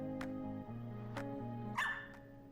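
A small dog barks in sharp, yippy, high-pitched yaps, several quick barks close by over a low steady hum.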